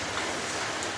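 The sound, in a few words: heavy rain in the background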